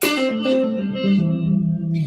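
Sustained electric guitar tones washed in springy spring reverb with the bass taken out, ringing out with a long decaying tail and no voices.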